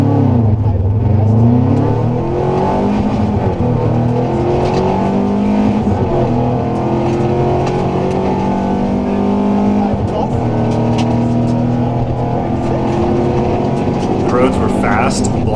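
A rally car launches hard from a forest stage start at the Southern Ohio Forest Rally, its engine revving and climbing through gears loudly and continuously over the whole stretch, with a voice talking underneath.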